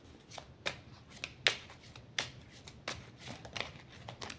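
A deck of playing cards being shuffled by hand in short riffling bursts of crisp, close card flicks, soft overall and with no one talking.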